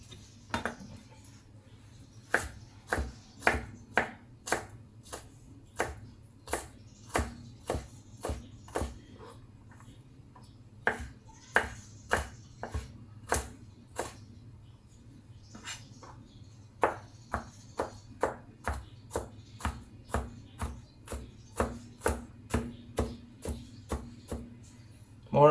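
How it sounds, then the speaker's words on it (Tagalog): A knife smashes and slices garlic cloves on a cutting board, a long series of crisp, close taps in a steady rhythm with a few brief pauses, a faint voice now and then underneath. "Smash before slice. Ahos. Yun yung technique sa ahos."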